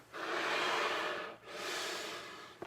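Accordion bellows whoosh as air moves through them, one long push, a short pause at the change of direction, then a pull, soft and breathy like an inhale and exhale, ending with a small click.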